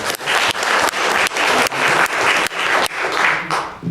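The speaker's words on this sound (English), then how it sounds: "You can clap after each name if you like." Audience at a county board of supervisors meeting claps in short repeated bursts, with brief pauses roughly every half second to second between rounds of applause, loud and close throughout.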